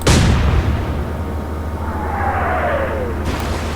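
Naval guns from a British warship in Atlantic Fleet fire in one loud opening blast, followed by a long rumbling tail and a descending whistle of a shell in flight.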